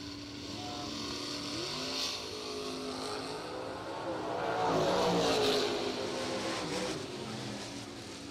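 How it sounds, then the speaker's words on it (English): A Chevrolet Cavalier and a little Chevette at a drag strip, heard as a distant engine roar that swells and peaks in the middle of the run before easing off, with faint crowd ambience. "Eric Amon, right side, 5:30 going to be the dial in for the Cavalier out of North Carolina."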